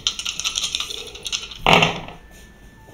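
Three dice tumbling across a table, a scatter of light clicky rattles building to a sharp clatter of landing, then stillness.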